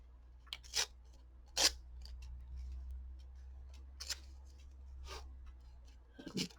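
Scissors cutting paper for a collage, several sharp close snips spaced irregularly over near silence, with a few faint small handling taps between them.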